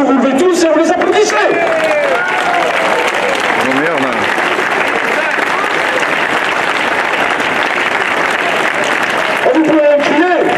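A large crowd applauds at a twinning signature ceremony during the August 15 festival in Bessans, loud sustained clapping with chatter and voices rising at the start and end.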